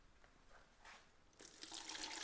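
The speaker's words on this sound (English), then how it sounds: "I'm actually just going to pour the water off into my pitcher over here." Water poured off a seedling tray into a pitcher indoors: a faint trickle at first, then a louder, steady splashing pour in the second half.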